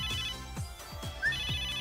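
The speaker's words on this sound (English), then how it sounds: "That's my in-gear's ringtone." The in-gear phone ringtone from the video game Neptunia VIIR plays as a bright electronic chime, looping steadily at an even rhythm with no talk over it.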